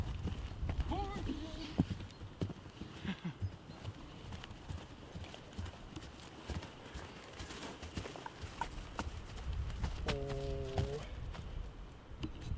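Hoofbeats of the horse Chase clip-clop on the ground at moderate distance, mixed with excited talk and a voice calling out repeatedly, with a brief whinny-like tonal sound near the end.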